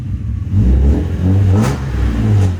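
A rare BMW M3 imported from Japan revs hard in three quick, loud swells close by, the engine pulling up strongly from idle with no talk over it.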